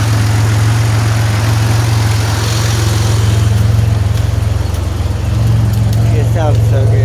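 A 2007 Grand Prix GT engine, running again after a no-start fix at a salvage yard, idles loud and close with a steady low hum and an even throb that never lets up.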